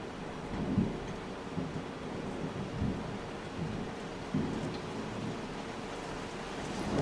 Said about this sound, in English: I really hope the microphone isn't picking up the crazy thunder that's happening right now.